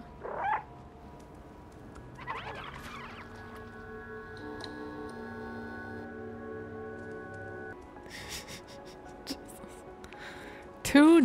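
Cat sounds from the video game Stray: a few short meows and chirps over a steady humming game soundscape, with a louder meow at the end.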